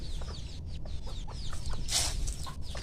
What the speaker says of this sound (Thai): ตอนนี้ก็น้องไก่มารอกันเพียบแล้วครับ